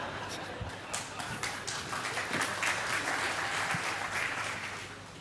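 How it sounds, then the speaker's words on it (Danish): Audience clapping and applause at a church reunion gathering, a steady dense patter of many hands that swells slightly midway and carries on for several seconds, with some voices murmuring underneath. "så sidder konen dernede og klapper"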